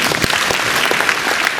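Audience applause fills the room in a brief, even burst of clapping, steady from start to finish with no talking over it.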